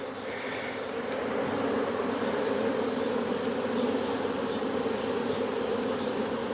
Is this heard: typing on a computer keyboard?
no